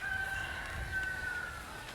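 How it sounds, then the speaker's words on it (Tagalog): Rhode Island chickens in a backyard pen, with a drawn-out crowing call and soft clucking over a faint outdoor background, moderately quiet and steady across the short stretch. "Ito po tayo ngayon sa ating pong alagaan po ng manok."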